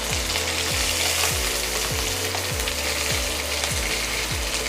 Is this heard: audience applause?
no